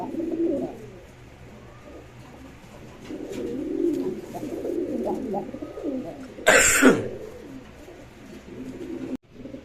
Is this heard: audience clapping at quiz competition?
no